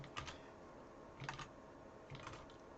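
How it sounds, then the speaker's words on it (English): Code is typed on a computer keyboard in quick little bursts of soft clicking keystrokes, with short pauses between the bursts. The clicks are faint and close over a low background hiss. "let's type this in fully."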